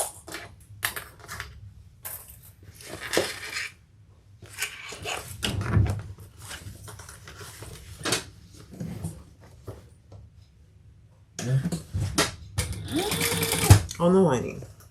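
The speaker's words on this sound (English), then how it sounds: "Fold that over and top stitch." Sewing machine topstitching a folded edge on an everyday bag, running in short intermittent bursts up close, with speech and clattering handling noises in between.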